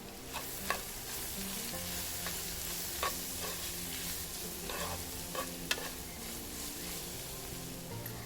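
Spices being stirred into a frying eggplant dish in a pan, a steady sizzle running throughout with occasional scrapes and clicks of the spoon against the pan.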